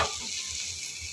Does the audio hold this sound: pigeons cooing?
no